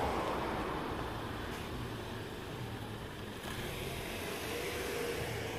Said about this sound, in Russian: Машины.